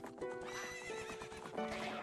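A game horse neighs and whinnies loudly over rhythmic hoofbeats in a Majora's Mask randomizer horse race, set against continuous music.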